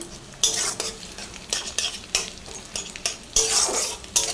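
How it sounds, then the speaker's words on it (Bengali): Egg and onion frying in white cooking oil in a pan, with loud, repeated stirring and scraping strokes in an uneven rhythm over a steady sizzle, heard close up. "বেশ ভালো করে ভাজছি"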